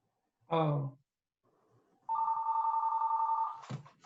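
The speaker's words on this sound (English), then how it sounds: "I didn't know I carried my hand phone down here." A mobile phone rings indoors during a public board meeting, a steady electronic ringtone tone lasting about a second and a half, preceded by a short voiced sound and cut off abruptly.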